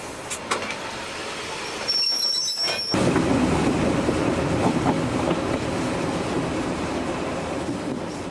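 A train slowly backs up along tracks, a steady rumble with faint wheel and rail noise that swells slightly and holds on, with a brief quieter dip early on and no voices.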